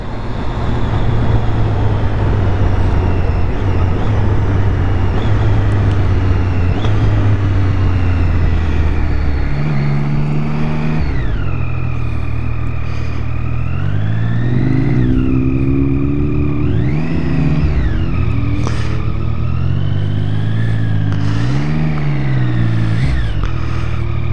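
An Erik Buell Racing motorcycle engine runs at a gathering at Newcombs Ranch, loud and close. A steady low drone gives way to a series of sharp revs that rise and fall repeatedly over the last half.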